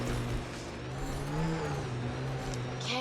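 Vehicle rolling downhill in Mass Effect: Andromeda, a steady low engine hum and tire whir with slight pitch shifts, close and continuous, without talk.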